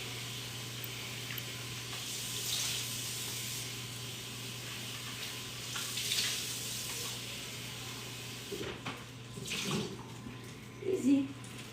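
Baby bella mushrooms rinsed under a running kitchen tap, a steady moderate splash of water flowing throughout with a few brief louder sputters near the end.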